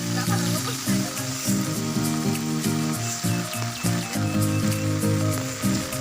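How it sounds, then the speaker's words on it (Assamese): Heavy rain from Cyclone Amphan hisses steadily, and a loud humming drone pulses underneath it throughout. "ইয়াতে বহুত তামাম বৰষুণ দি আছে"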